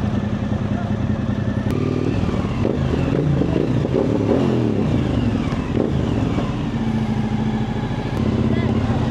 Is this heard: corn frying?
no